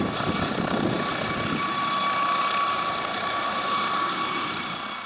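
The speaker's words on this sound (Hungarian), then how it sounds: "A légijármű hétfőn, kedden és szerdán is körözött Szabolcs-Szatmár-Bereg légterében." Police helicopter circling over Szabolcs-Szatmár-Bereg county, a steady, loud rotor and engine drone with a high whine, continuous throughout and fading slightly at the end.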